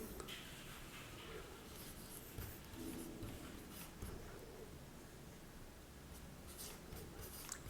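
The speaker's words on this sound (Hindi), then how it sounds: "यहां पर टोटल लिख लेते हैं।" Pen scratching on paper while writing a total in an accounting journal, faint intermittent scribbles and strokes with soft rustles, close but quiet, alone without talk.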